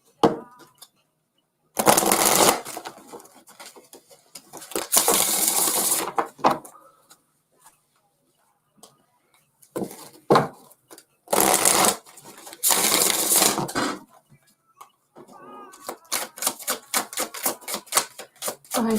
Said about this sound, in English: Let me pull some cards.